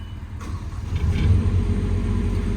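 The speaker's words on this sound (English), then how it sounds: "Again, it's a Kubota diesel engine." Kubota diesel engine on an EnPak power unit mounted on a 2015 Ford F-550 service truck starting up: a brief crank, then a low, rumbling idle that steadies and holds close and loud.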